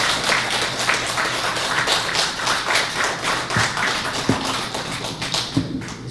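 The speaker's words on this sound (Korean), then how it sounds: "우리 다 함께 뜨거운 박수로 응원합시다" Audience applause at a Buddhist nuns' dharma talk in a tent gathering. Dense clapping continues steadily from start to end, with a few sharper thumps near the finish.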